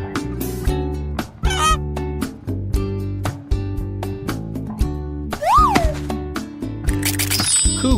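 A cartoon goose honks over a bouncy children's song, its calls short and mixed into steady music with no voices.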